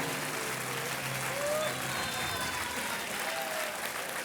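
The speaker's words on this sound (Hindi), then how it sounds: "तालियां बजती रहनी चाहिए देवी और सज्जनों" A studio audience on the KBC quiz show claps steadily after a contestant's winning answer, a dense and even wash of applause lasting several seconds with a faint voice beneath.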